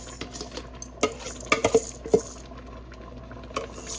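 A spoon stirs rice in a pot over medium-high heat for Jamaican rice and peas, giving a few scraping knocks against the pot over a soft sizzle, with no talking.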